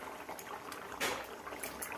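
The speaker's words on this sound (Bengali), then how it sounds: "মাছ দিয়ে খুব ভালো করে ঝোলটাকে ফুটিয়ে নিয়েছি।" A pot of Bengali fish curry with bottle gourd bubbles steadily at a soft simmer, with continuous close, faint popping and gurgling and no voices.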